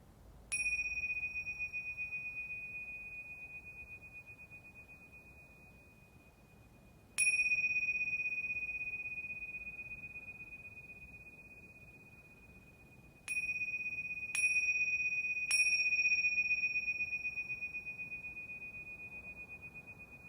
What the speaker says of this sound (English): Returning home to your awareness with the sound of the bell.